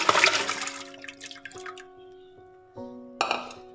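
Dal and water splash and gurgle into a metal pressure cooker, a noisy pour that trails off into ringing tones, then another short splash near the end.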